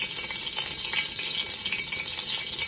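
Chicken tinted with a pinch of red food colour sizzles steadily in a hot pan while being stirred, a continuous close frying hiss with no voices.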